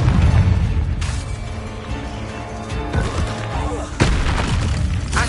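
Confringo blast spell in Hogwarts Legacy, loud continuous booming explosions with crashing bursts at about one, three and four seconds over a dense rumbling game mix.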